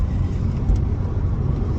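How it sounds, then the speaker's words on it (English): A Hyundai car driving, its steady low engine and road rumble continuous and fairly loud from inside the vehicle, with no talking. "So I'm going to drive the Hyundai now"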